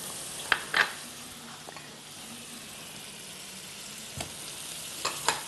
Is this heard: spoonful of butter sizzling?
yes